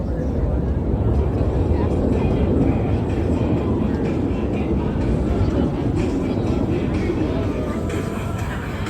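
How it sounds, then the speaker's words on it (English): Blue Angels jets at an air show, four aircraft converging on a center point at minimum separation, producing a loud, continuous low roar that stays steady throughout. "all 4 aircraft converge on center point with maximum closure and minimum separation."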